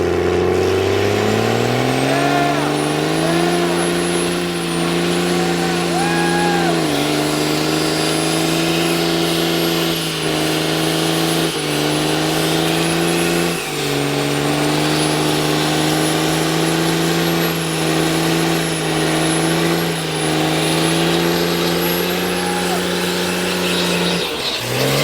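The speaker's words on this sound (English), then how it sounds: "Old man just did a burnout." A truck revs hard and holds a loud, sustained engine roar for a burnout at an Alabama truck meet, the pitch climbing and steadying in repeated surges, with tire squeal and crowd voices mixed in.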